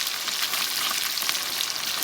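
Fish frying in hot oil, shot in a rural village setting, gives a steady, dense sizzle that runs unbroken and fairly loud throughout, with no voices.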